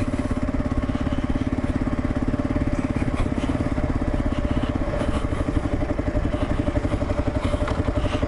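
Kawasaki KLR motorcycle with a 16-tooth front sprocket running steadily in second gear, a loud, close, continuous engine chug with a pulsing exhaust rhythm and faint clatter throughout, no talk.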